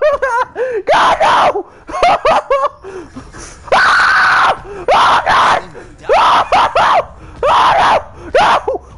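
A player shrieks and yelps in fright while playing the survival horror game Resident Evil 2 Remake, loud bursts of screaming and gasping repeated in uneven bursts with short pauses between them.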